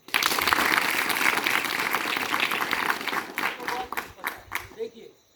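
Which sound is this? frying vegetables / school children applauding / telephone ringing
school children applauding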